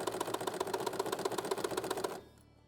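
A sewing machine runs a straight stitch while sewing a fabric dust cover for a sewing machine. It gives a fast, steady, even mechanical rattle at close range, then stops abruptly near the end.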